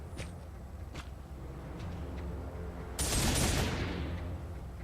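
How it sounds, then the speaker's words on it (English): Bolt gun firing in a Warhammer 40K Space Wolf video game: a few sharp separate shots, then a louder rushing blast near the end, over low game ambience. "Bolty bolt gun action."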